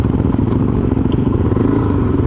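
Motorcycle ride on the Cape York off-road track: the bike's engine drones steadily and loud up close for the whole stretch, with light clatter and thuds from the rough terrain mixed in and no talking.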